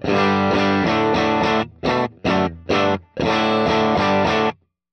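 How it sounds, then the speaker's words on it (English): Electric guitar through a Fractal FM9 amp model with a greenback speaker tone, mid-heavy and somewhat muffled, plays loud distorted chords: a sustained passage, three short choppy stabs, then another long ringing section before stopping. "It's got that muffledy, it's got that more mid-rangey greenback sound."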